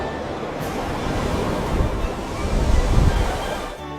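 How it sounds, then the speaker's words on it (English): Ocean waves roar against cliffs in a broad, steady surging rush that swells and ebbs over a few seconds, with wind buffeting the microphone and no voices. "He rode along cliffs where the ocean roared its mighty song."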